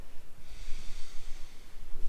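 Steady, close, audible breaths during an advanced yoga flow at home in downward-facing dog fill the clip with a continuous airy rush, rising and falling without speech.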